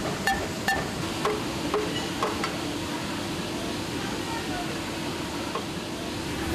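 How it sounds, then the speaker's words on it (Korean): A hammer tapping glued leather pieces by hand in a Bangladesh leather factory, several sharp taps in an irregular rhythm over the first half, set against a busy workshop hum with a voice talking. "일일이 손으로 접착제를 칠하고 잘 붙도록 망치로 두드린다"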